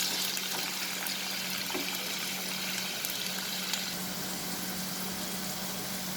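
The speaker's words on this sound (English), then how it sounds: "We'll fry them till they slightly change their color, and we'll fry over medium flame." Potato pieces frying in oil over a medium flame give a steady, even sizzling hiss that continues without pause, close and moderately loud.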